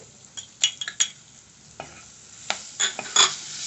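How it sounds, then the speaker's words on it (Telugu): Onion pieces fry with green chillies in a pan and are stirred, giving scattered scraping and clinking strokes of a utensil over a soft, steady sizzle, close and moderately loud. "ఇప్పుడు మనం ఉల్లిపాయ ముక్కలు తీసుకుని ఇంక వేయించుకోవాలి"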